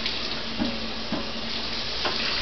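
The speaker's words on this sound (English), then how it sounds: "I like to fill this with hot water right from the tap" Hot water runs steadily from a tap into a carpet cleaner tank, a dense continuous rushing hiss, close and fairly loud, with no pauses.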